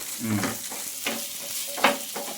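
Onions sizzle softly in a pan while a spoon stirs and scrapes in a few distinct strokes, close by and without voices.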